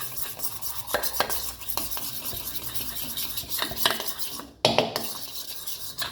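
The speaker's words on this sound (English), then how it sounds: "now mix this together and this will give us a nice red color" Pork chops being mixed by hand in a Kashmiri red chili powder marinade with vinegar and lime, giving steady wet stirring and squelching with a few clinks of a bowl or utensil, close and moderately loud, with no talking.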